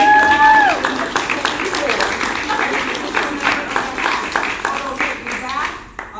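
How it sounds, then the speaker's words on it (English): A round of applause breaks out at a City of Berkeley Housing Advisory Commission meeting, a modest room of people clapping steadily for several seconds, with some voices talking over it before it tapers off. "Let's give a round of applause"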